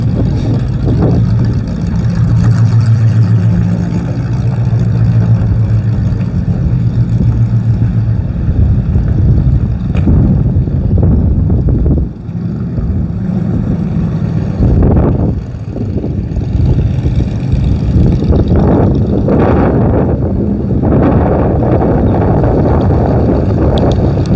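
A hotrod's engine runs steadily while it drives, with a strong, continuous low rumble behind heavy wind buffeting on the microphone. A breather restricts the engine. The roar swells and dips briefly as the revs change.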